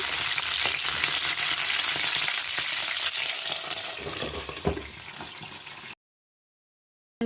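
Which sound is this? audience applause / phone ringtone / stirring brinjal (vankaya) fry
stirring brinjal (vankaya) fry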